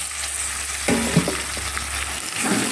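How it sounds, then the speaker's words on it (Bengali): Ginger garlic paste fries with softened onion and tomato for a chicken curry, giving a steady close sizzle with a few soft thuds and stirring scrapes partway through. "এই আদা রসুনটা দিয়ে ভালো করে কষাবো"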